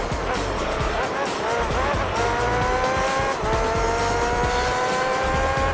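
Race cars in Gran Turismo 3 roar continuously at high revs, engine tones climbing through gears with tire squeal, while someone talks over the game sound.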